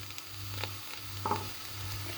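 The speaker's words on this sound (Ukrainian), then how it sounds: "І будемо тушкувати кабачки на середньому вогні." Oil sizzles steadily as zucchini stews in a pot over medium heat, a soft continuous frying hiss with a low hum beneath and a couple of faint clinks.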